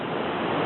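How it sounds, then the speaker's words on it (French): Surf on an Australian beach rolls in as a steady, dense wash of breaking waves, loud and continuous with no voices, a broad roar that never lets up. "il y a beaucoup de bruit, puisqu'il y a des vagues"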